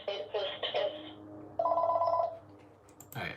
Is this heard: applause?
no